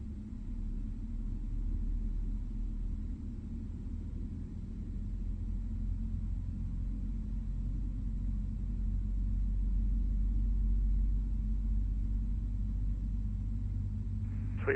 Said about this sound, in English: Right engine start. Let's fire the beast.